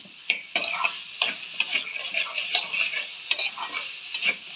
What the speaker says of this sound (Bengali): এবার আমি এর মধ্যে একটু ধনেপাতা দিয়ে দেব, আর একটু রেখে দেবো পরে দেওয়ার জন্য। দিয়ে ভালো করে একটু নাড়িয়ে নেব।